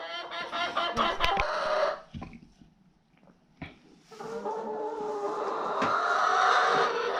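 Hens clucking and a rooster crowing inside a hen house where one hen sits nesting in a box; busy, close fowl calls fill most of the clip with a brief quieter lull in the middle.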